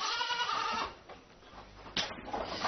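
Fuqing goats, a brown to greyish-brown meat breed with a black stripe along the back, bleat loudly at close range in one sustained call, followed by a quieter pause and then a second burst of bleating.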